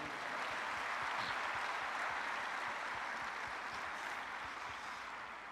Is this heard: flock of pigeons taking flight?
no